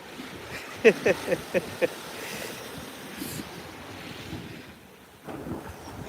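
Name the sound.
waves at Meads Bay beach, Anguilla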